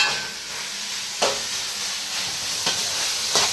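Pork sizzles steadily in a covered pan as its fat renders out, a constant bright frying hiss broken by a few louder crackling spurts.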